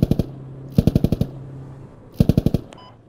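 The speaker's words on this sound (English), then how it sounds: "That's an AK to the southeast." AK rifle gunfire in the video game Squad, three loud, close bursts of rapid automatic shots separated by short pauses.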